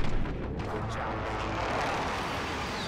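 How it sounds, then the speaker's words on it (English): Precision airstrike explosions in the Call of Duty Modern Warfare multiplayer game, a continuous dense roar of booming blasts that starts with a loud hit and stays heavy and rumbling throughout, with no talk over it. "Be advised, friendly precision airstrike inbound."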